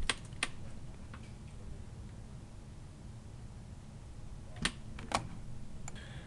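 Keys tapped on a computer keyboard to enter a shortcut in an Excel spreadsheet: a few sharp, faint clicks at the start and a quick cluster near the end, over a quiet hiss.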